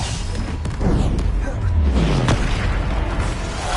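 A deep, booming blast from the Bombarda explosion spell in Hogwarts Legacy rumbles loudly and fills the moment, with a low roar that swells and fades, no speech over it.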